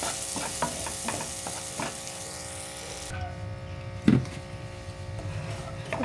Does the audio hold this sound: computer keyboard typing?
no